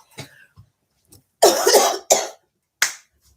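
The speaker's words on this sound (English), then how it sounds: "it doesn't look like I've got rid of this cough" A few harsh coughs, close and loud, with a short one first, a long heavy burst, then two more separated by brief silences.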